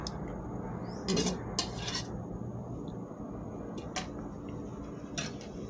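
Thai curry with pork goes into a pot of coconut milk, with a spoon clinking and scraping against the metal a few times over a soft, steady background.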